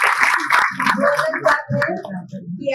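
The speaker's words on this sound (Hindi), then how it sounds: "आप सभी के लिए ताली" Scattered hand claps from an audience at a special lecture for students and professors at a government engineering college, heard as a few sharp bursts mixed in with someone talking.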